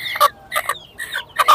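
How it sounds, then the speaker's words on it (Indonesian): Short, sharp clucking calls from a black Ayam Cemani chicken at a bird market in Plered, Cirebon, four quick bursts close and clear with no talk over them. "Ayam hitam, teman-teman tuh. Ayam cemani namanya."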